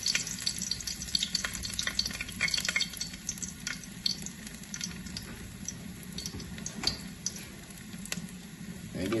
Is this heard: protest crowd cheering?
no